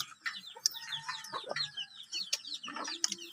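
A flock of chickens clucks and squawks in busy, overlapping bursts while being fed, close by and fairly quiet overall, with a few sharp calls standing out.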